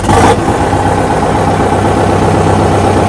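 A New Holland C245 skid steer diesel engine, with DPF, DEF and EGR deleted and exhaust straight off the turbo, catches with a loud burst and settles into a steady, rough, close idle that drones on without pause.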